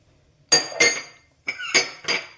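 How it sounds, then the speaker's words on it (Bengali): Two cups are set down among freshly washed dishes, giving a few sharp ceramic clinks in two quick pairs, close and crisp against a quiet background, with no voices. "কাপ দুটো রেখে দিলাম।"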